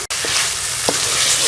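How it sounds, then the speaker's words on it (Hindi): Beef and yogurt frying in a karahi sizzle steadily and close, with a sharp clatter near the start and a couple of soft stirring knocks. "दही के साथ जो है वो बीफ को अच्छी तरह से भून लेंगे"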